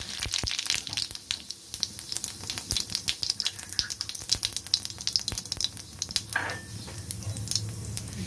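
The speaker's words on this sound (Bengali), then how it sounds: "কড়াইতে তেল বসিয়ে দিয়েছি, তেল গরম হয়ে গেছে, দিয়ে দিলাম জিরে ফোড়ন" Cumin seeds crackle in hot oil in a kadai, with a dense run of sharp pops and spits over a low sizzling bed, fairly quiet and with no voices.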